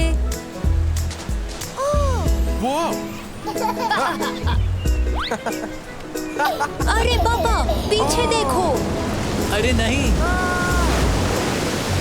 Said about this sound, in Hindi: देखो ये लहरें लहरें लहरें आ रही है कितनी तेज